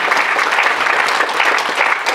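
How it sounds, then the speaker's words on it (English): Loud, close crowd applause for members of an arts collective at a stage event, with a dense, even wash of clapping throughout two seconds and no voices on top. "Please, a big round of applause for all of them."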